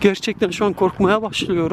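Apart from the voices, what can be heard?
None of the usual background noises is heard.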